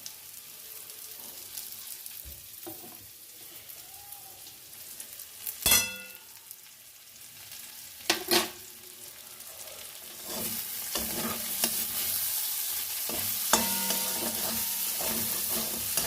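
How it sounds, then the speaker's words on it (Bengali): Carrots, peas and green chillies fry in ghee for a lightly made matar pulao, giving a steady sizzle that swells louder toward the end, broken by a few sharp clangs of a spoon against the pan. "একটুখানি ঘি আমি এটাকে একটু ভেজে নিচ্ছি"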